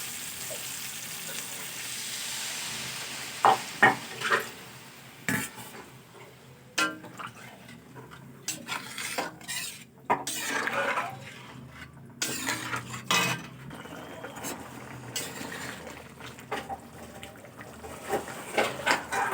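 Potatoes and cauliflower cooking in spices in a pan as water is poured in, giving a busy sizzle and frying hiss with scattered clicks and stirring knocks that rises and settles unevenly.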